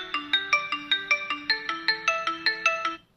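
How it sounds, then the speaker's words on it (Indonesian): A melodic ringtone sounds from a handphone triggered by the find-phone function of a Xiaomi Smart Band 10, a bright sequence of about fifteen quick electronic notes stepping up and down, steady and clear with no talking, then stopping. "handphone kita akan berbunyi seperti ini ya"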